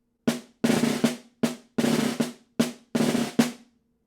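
Snare drum buzz strokes in a rhythmic pattern, each a short crushed roll of sizzling rattle, played close and clear with brief silences between groups.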